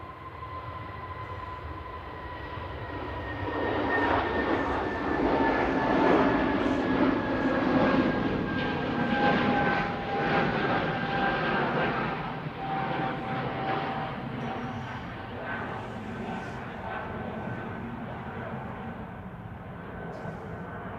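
A Brussels Airlines Airbus A320neo rolls down the runway at Manchester Airport on takeoff, a moderate engine roar with a faint whistling tone building and then easing at a distance.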